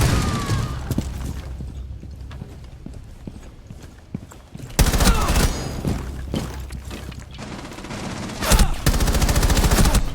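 Gunfire in the tactical shooter Rainbow Six Siege during a competitive match, loud bursts of rapid shots with clattering mechanical noise, coming in clusters across the clip and growing louder toward the end.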